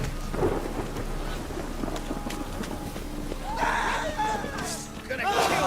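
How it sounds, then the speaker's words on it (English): A thunderstorm with steady rain pours in The Witcher 3 video game, with rumbling thunder and crackling strikes building toward the end, under a continuous wash of rainfall. "A storm, damn it."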